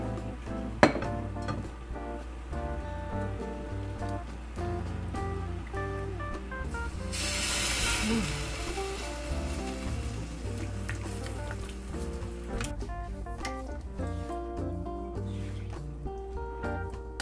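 Soaked rice cakes dropped into simmering tteokguk soup in a home kitchen, a soft hiss and rushing splash in the middle amid quiet pot clinks and background hum, without talk.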